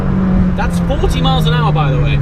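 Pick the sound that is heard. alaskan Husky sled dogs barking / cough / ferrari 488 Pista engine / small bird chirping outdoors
ferrari 488 Pista engine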